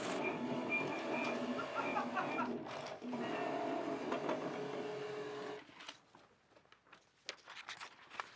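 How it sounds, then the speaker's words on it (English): A printer whirs and grinds steadily for about five and a half seconds, then stops, leaving quieter scattered clicks and rustles. "So I guess he's a printer"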